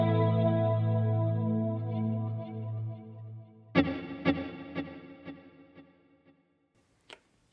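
An electric guitar drenched in heavy reverb and delay plays a sustained chord, then a run of sharp plucked hits whose repeats pile into a long, washing tail that fades out, with one last bright note near the end.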